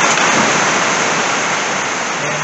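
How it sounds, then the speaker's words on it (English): Heavy rain pours steadily on a shop roof, a dense, unbroken hiss and patter that stays loud and even throughout, with no voices. "sorry about the rain noise"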